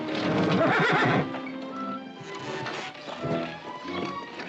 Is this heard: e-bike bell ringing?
no